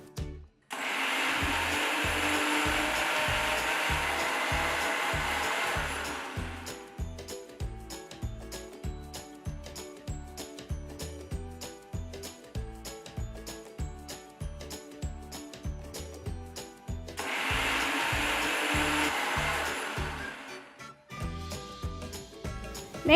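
A mixer grinder whirs loudly through two long bursts while blending sauteed onions and tomatoes in its jar, with rhythmic clicking and rattling between the runs.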